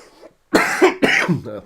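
Two sharp, close coughs in quick succession, loud and harsh, following a brief murmur.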